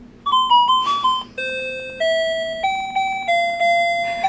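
A late-seventies talking alarm clock plays its alarm melody, a clear sequence of electronic chime-like tones stepping through a short tune, loud and close with no voice.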